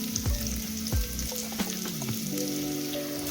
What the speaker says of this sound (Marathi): कांदा असा मीडियम गॅसवर थोडा लालसर होऊन द्यायचा आहे